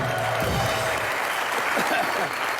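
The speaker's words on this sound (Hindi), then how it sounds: "फवाद और सोनम के लिए जोरदार तालियां" Studio audience applause on a comedy talk show, loud and continuous rapid clapping from a crowd, with a voice briefly heard over it.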